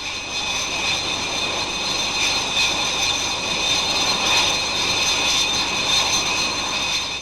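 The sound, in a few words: Buccaneer jet strike aircraft flying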